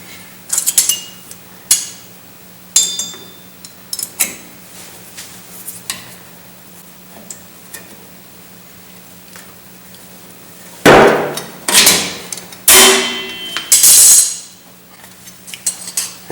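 Rear drum brake return springs on a Chevy S10 or GMC S15 truck being fitted with brake pliers, giving sharp metallic clanks and snaps scattered through the clip, sparse at first, then a louder cluster near the end over a steady low hum.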